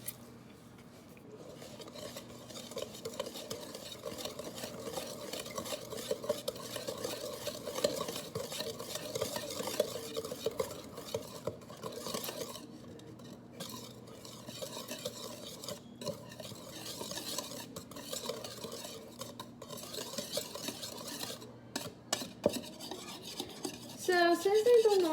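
A spoon and a whisk stir a frosting mixture for a seven-layer Christmas bun cake, a continuous close scraping and swishing against a bowl with occasional clinks, growing louder toward the end.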